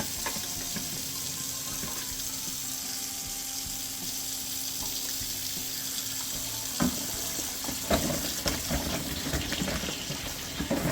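Tap water runs steadily into a sink while peppers are washed underneath, a constant close splashing rush with a few louder clunks and splashes of handling toward the end.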